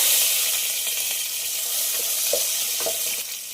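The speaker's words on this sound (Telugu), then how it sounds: "ఇలా కొంచెం కరివేపాకు కూడా వేసేసుకున్నాం" Curry leaves sizzle steadily in hot tempering oil, a loud continuous hiss with a few brief crackles near the end.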